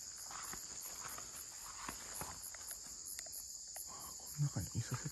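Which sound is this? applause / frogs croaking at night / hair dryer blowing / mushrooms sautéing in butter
frogs croaking at night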